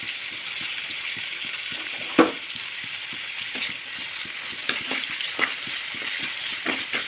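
Onion and tomato sauté in a pan for a peanut kurma, giving a steady sizzling fry with regular light stirring taps and one sharper clank of the spoon, close and continuous.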